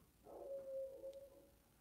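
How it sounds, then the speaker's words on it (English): A hound dog next door lets out a single long, faint howl holding one steady pitch for about a second before trailing off, heard at a distance over quiet background. "If you guys hear the howling in the background"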